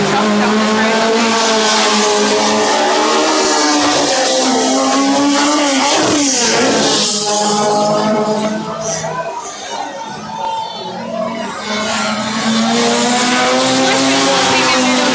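Race cars roar past at speed down a straightaway during a club racing event, a loud continuous engine drone with shifting pitch and brief tire noise, with a commentator talking over it.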